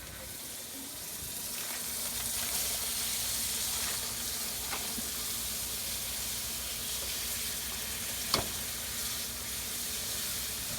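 A steady, close sizzling hiss of frozen onions frying in a pot for gumbo, with a few faint pops and a soft clink, no talking.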